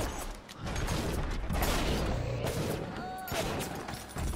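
Gunfire in BioShock rings out as sustained dense shooting amid a loud, chaotic fight, with creaks and clanks and talking underneath.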